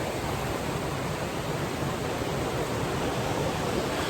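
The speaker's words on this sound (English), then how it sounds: "I'm parked right there, and the river's right there, so when I'm inside the van and everything's quiet, you can really hear the river" A river rushes beside a parked van in a mountain town, a steady broadband wash of flowing water heard alone without any voices.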